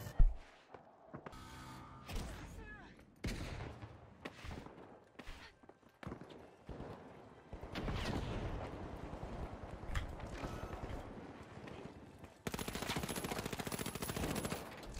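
Gunfire in a ranked match of a competitive video game, with bursts of rapid shots mixed with footsteps and other game effects, loud and continuous through the latter half.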